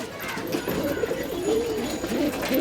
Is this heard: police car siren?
no